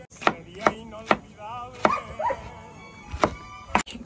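Knife chopping tomatoes on a cutting board for fajitas: sharp, evenly spaced thunks, about seven across a few seconds, close and clear, with a faint dog bark or yip in between.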